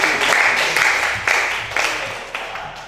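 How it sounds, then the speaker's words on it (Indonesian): Applause from a classroom of students after a group presentation, a steady mass of many hands clapping close by, lasting a few seconds and tapering slightly toward the end. "Tepuk tangan sekali lagi."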